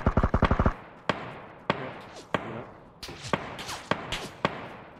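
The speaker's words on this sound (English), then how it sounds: "Get ready to shoot." Gunfire in the battle royale shooter PUBG: a rapid burst of about eight sharp shots, then single cracking shots spaced under a second apart with thuds and ringing echoes, loud and close, no talking.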